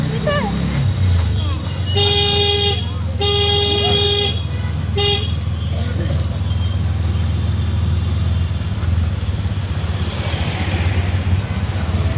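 Riding in a toto electric rickshaw through busy traffic near Ajmer, with a steady low road rumble, several loud close horn toots early on, and voices in the background.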